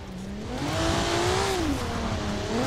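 A car in the Forza Horizon 4 racing game revs hard while drifting, its engine note rising and falling in a loud, sustained whine layered with continuous tyre squeal.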